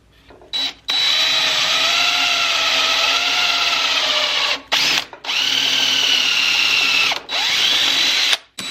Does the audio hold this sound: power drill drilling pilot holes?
yes